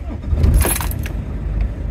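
Keys jangle as an ignition key is turned in a Scania truck cab, followed by the low rumble of the diesel engine catching and idling.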